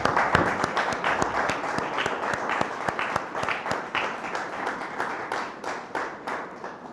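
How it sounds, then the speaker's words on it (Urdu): A church congregation applauds loudly during a Sunday service, many hands clapping with distinct sharp claps standing out from the crowd and the applause gradually thinning toward the end. "آئیے خدم کو زوردار تالیوں سے جلال دیں"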